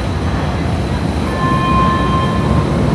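A Vienna metro train in Austria rumbles loudly and continuously, with a thin high whine rising partway through as it runs along the track.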